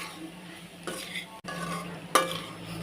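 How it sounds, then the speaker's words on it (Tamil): Onion and garlic with salt saute in a pan, a quiet sizzle underneath as a spoon scrapes and clinks against the pan in a few distinct stirring strokes. "இப்போ நம்ம உப்பு போட்டுட்டு ஒரு ரெண்டு மூணு நிமிஷம் வதக்கலாம் நல்லா வதங்கட்டும்"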